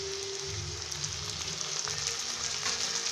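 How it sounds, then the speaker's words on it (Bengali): Chopped tomatoes hit fried onions in a hot pan while cooking Bhola fish curry, giving a steady loud sizzle and crackle with no talking. "পেঁয়াজটা ভাজা হয়ে গেছে, এবার আমি এর মধ্যে দেব টমেটো কুচিগুলো,"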